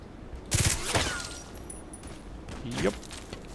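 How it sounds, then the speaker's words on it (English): Sniper rifle fire in a shooter video game, heard as a couple of sharp, moderately loud cracks about two seconds apart, each trailing a short echo over a quiet background. "It's a sniper or something."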